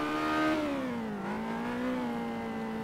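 Ferrari engine in the New York City Taxi Simulator video game, one steady harmonic drone that drops in pitch twice as gears shift, loud and close with no talk.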